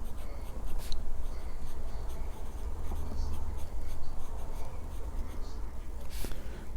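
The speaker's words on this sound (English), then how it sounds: "They all come with the same steel nibs, which are extra fine. And let's see how they write." An extra fine steel nib on a Platinum Meteor (Little Shooting Star) fountain pen scratches steadily across paper, a continuous close, soft scraping with a few sharper strokes and no talking.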